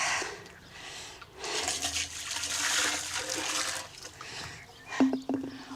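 Boiling water splashes and pours over dairy utensils to scald them, a broad watery gush with splatter that rises and swells, then ends in a brief ringing clink near the close.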